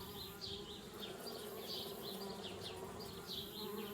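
Steady buzzing of a swarm of bees around a beehive in the point-and-click adventure game Anna's Quest, a dense, continuous insect drone with wavering pitch that holds close and even throughout, with no talk over it.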